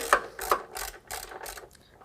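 A 12 mm ratchet tightens the running board step bolts on a 2007–2019 Toyota Tundra CrewMax, giving several quick, close, rhythmic clicking strokes.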